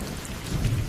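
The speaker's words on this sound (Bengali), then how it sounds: "বিকেল থেকে বৃষ্টি হচ্ছে, আশেপাশে সমস্ত রাস্তাঘাট একেবারে ভিজে একাকার" Cartoon rain and thunder sound effect: dense rainfall with a deep rolling rumble swelling toward the end, loud and without voices.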